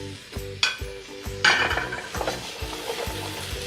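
Carrots, parsnips and cauliflower sauté in a soup pot, giving a soft sizzle under repeated scraping strokes of a utensil against the pot, with a couple of sharper clanks near the start.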